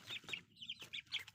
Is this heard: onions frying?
no